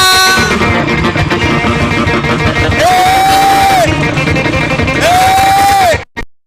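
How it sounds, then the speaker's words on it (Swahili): A church congregation at a youth-led Sunday service at K.A.G. Church in Nyahururu shouts and cheers in praise, a loud, dense crowd roar with shrill rising cries riding on top, cutting off abruptly at the end. "So wapi shangwe na kelele kwa Bwana?"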